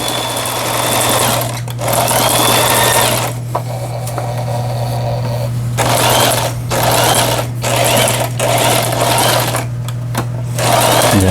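Singer 8280 sewing machine stitching in steady bursts, a loud close mechanical whir with rapid needle clatter that starts and stops several times, with a constant low hum beneath and no talk.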